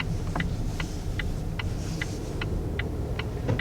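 Low, steady engine rumble and road noise inside a 2019 Volvo S60 on the move, with a regular ticking pulse riding over the drone and no voices.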